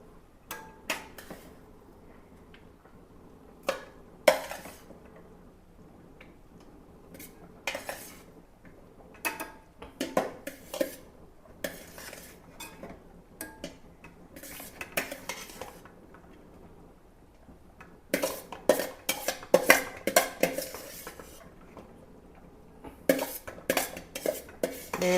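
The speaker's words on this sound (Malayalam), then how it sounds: "നമുക്ക് ഈ ഗ്രേവി നമ്മൾ എടുത്ത് മാറ്റി വെച്ച ഗ്രേവി ഉണ്ടല്ലോ അതിട്ട് കൊടുക്കാം." Reserved gravy stirred into chicken mandi in a pot, quiet background broken by scattered sharp clinks and scrapes of a utensil against the pot, coming in irregular bursts and clustering more densely toward the end.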